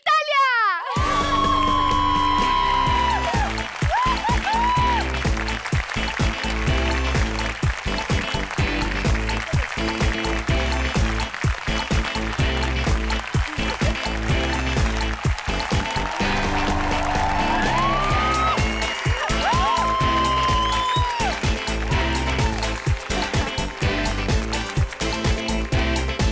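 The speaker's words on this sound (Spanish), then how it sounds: "Un fuerte aplauso para Italia." Studio audience applause for the weekly winner of a style competition show, sustained clapping and cheering for over twenty seconds with upbeat music underneath and occasional shouts.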